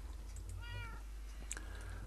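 A cat meows in the Minecraft video game, giving two quiet, tonal meows, the second brief and higher, over a steady low background hum.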